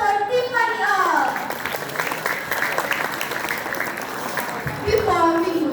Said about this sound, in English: Give a loud applause for Tiffany all.